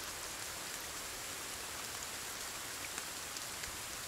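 Steady rain patters evenly in the survival video game Sons of the Forest, a continuous close hiss of drops on surfaces with no other sounds.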